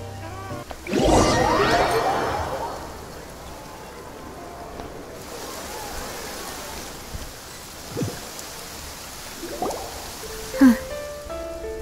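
Steady rain falls in the Genshin Impact video game, a soft constant hiss running throughout, with a louder chime-like game sound at the start and a few small tonal blips later; no talk over it.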